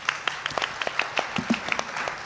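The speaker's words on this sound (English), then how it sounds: "Please give her a round of applause" An audience at a Common Core forum in Tulsa breaks into a round of applause, a dense patter of claps from a room of people with sharp individual hits standing out, steady and moderately loud throughout.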